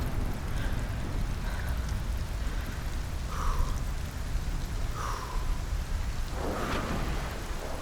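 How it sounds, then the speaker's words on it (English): Steady rainfall in the video game Cairn hisses continuously at a moderate, even level, with a few faint brief chirps over the top. "but also it is still raining"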